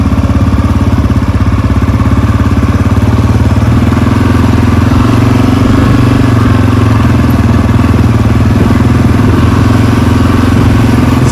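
Honda CRF250F dirt bike engine running while being ridden through a backyard, a loud, close, steady throbbing drone with a clattery edge that holds unbroken throughout.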